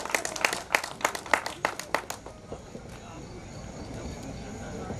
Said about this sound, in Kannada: ದಯವಿಟ್ಟು ಒಂದು ಚಪ್ಪಾಳೆ ಕಿಶೋರ್ ಅವರಿಗಾಗಿ